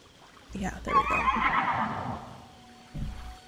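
A horse in the video game The Legend of Zelda: Tears of the Kingdom gives one long, loud whinny lasting about two seconds, followed by a brief softer rustle near the end, with no talking over it.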